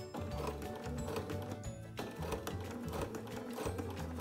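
A sewing machine stitches fabric for a round basket, its needle running in a fast, continuous rhythmic clatter with a brief pause midway, close and steady.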